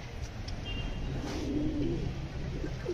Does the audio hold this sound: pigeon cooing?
yes